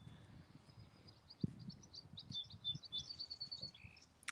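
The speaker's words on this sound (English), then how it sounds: "You hear those birds?" Several small birds chirp and tweet in short bursts at a sheep farm, clear but moderately faint over a low outdoor rumble with a brief thump.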